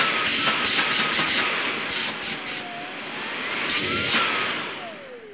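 A Makita CL001G cordless vacuum cleaner runs after being switched to its second power mode, giving a steady close whine and airy hiss with brief interruptions from handling and a faint pitch sweep.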